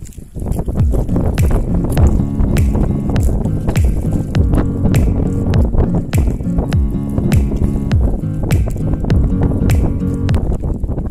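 Strong wind at sea on the Albay Gulf, Philippines, roars continuously across the microphone during hook-and-line fishing, buffeting loudly with choppy gusts and thumps, with no voices.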